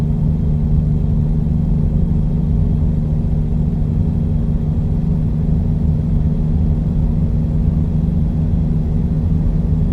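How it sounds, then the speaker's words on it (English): Truck engine in a car simulator video game drones steadily in sixth gear, a constant low rumble at even loudness with no pauses or talk. "Truck is moving well."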